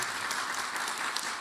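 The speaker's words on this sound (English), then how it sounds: "We can really clap, absolutely" Audience applause at a conference stage session, a brief, even burst of clapping from a crowd, steady and moderately distant.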